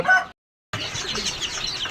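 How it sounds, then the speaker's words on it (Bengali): Silver hybrid chicks and young hens in a backyard pen cluck and chirp close by, a short call, a brief silence, then continuous overlapping clucking. "এইখানে যে মুরগি বাচ্চাগুলো দেখতে পাইতেছেন"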